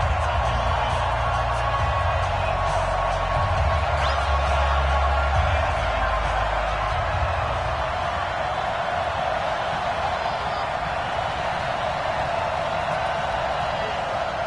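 A stadium crowd in the game Madden NFL 19, Saints against Falcons, keeps up a steady, dense roar throughout under a commentator's voice, with a heavier low swell early on.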